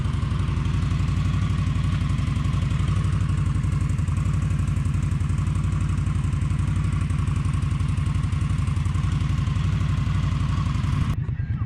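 A Honda Shadow motorcycle fitted with a Vance and Hines exhaust idles steadily and loudly nearby, its deep rhythmic lope pulsing without a break for about eleven seconds before cutting off abruptly.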